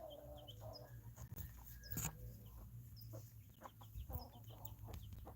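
Several chickens cluck and chatter nearby in short, overlapping bursts, with scattered thumps and rustling around them and no talking.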